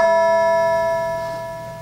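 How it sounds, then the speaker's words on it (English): A church bell struck loudly once, ringing with a clear sustained tone that slowly fades over nearly two seconds, close and alone. "we were all startled by the sound of violent church bells ringing and thinking of nothing but fire"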